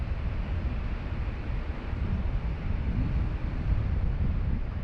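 Strong southerly wind buffets the microphone at Sydney Airport, a steady low roaring rumble that runs unbroken throughout, with no voices.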